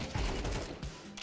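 Burst of gunfire in a video game during a blind headshot, several rapid sharp shots over about a second, close and punchy.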